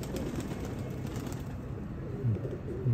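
Pigeons settling onto a loft outdoors, with soft low cooing and faint wing movement under steady outdoor noise, a couple of fuller coos near the end.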